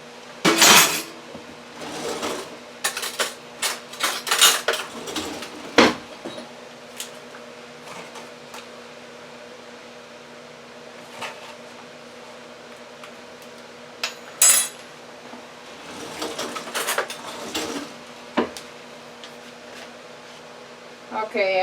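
Metal spoon and dishes clinking in a home kitchen while fetching a clean spoon, scattered sharp clinks and clatters in bursts with quieter gaps, close by, with speech at times.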